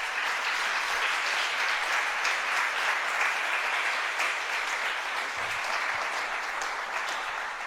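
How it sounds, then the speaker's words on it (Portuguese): Congregation applauding during a church service, a steady wash of many hands clapping at an even level throughout, fairly distant and unbroken by speech. "Você pode aplaudir Jesus por isso?"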